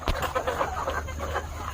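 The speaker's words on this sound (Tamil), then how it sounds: "இப்போ இந்த கோழி தும்பனதை நீங்கள் கேட்டிருப்பீங்கன்னு நினைக்கிறேன்" A chicken with a cold sneezes once, a short sharp burst at the start, followed by soft clucking and farmyard noise from a flock close by.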